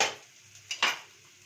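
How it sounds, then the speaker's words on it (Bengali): Taki fish is sautéed in a pan, not deep-fried, with two quick close scrapes of a spatula over a faint, quiet sizzle. "আবার বলছি আমি ডিপ ফ্রাই করছি না সাঁতলে নিচ্ছি"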